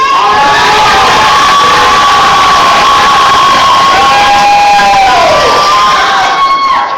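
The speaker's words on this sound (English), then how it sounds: "Let me hear that same cheer." A wrestling crowd at a Black Diamond Wrestling event cheers loudly and continuously, a dense roar of shouting voices with rising whoops that holds steady and fades slightly at the very end.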